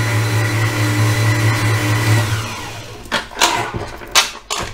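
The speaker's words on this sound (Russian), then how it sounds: "Перемешивать можно на небольшой скорости." An electric mixer beats cookie batter at low speed, a steady near whirring hum for a couple of seconds that then cuts off, followed by a few scraping and knocking handling sounds.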